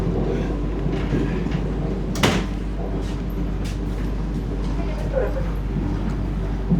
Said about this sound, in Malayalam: അപ്പം നമ്മളങ്ങനെ കോട്ടയം സ്റ്റേഷനിലേക്ക് പ്രവേശിക്കുകയാണ്.